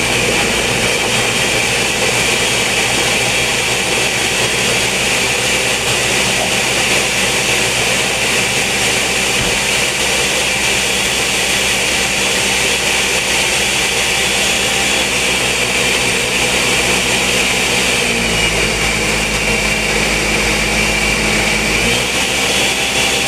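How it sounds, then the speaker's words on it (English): Blender grinding coconut for Jamaican-style coconut oil: a loud, steady high-pitched whirring drone runs throughout, with a slight shift in pitch near the end as the load changes. "I'm going to blend my coconut"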